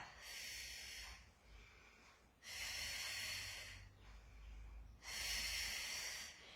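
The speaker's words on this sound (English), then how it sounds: "I do my breathing pattern, exhale half a circle, inhale, complete the circle" Breathing during a Pilates single leg circle exercise: three slow, soft breath cycles, each a clear airy exhale or inhale rising and fading, close to the mic and quiet, with no talk.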